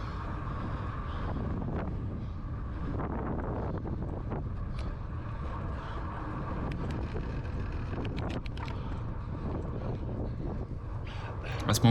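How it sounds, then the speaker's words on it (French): Wind buffets the microphone during a cycling time trial at Bonifacio, Corsica, a constant loud low rumble with gusty surges throughout, and a voice talks over it. "Le vent n'est pas encore tout à fait favorable."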